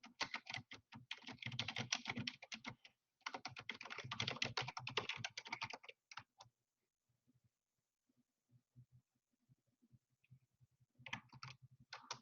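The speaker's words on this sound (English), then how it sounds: "Let me type this out." Rapid clatter of typing on a computer keyboard, two dense bursts of fast keystrokes, a pause with scattered light taps, then another short run near the end; close and fairly loud, no talking.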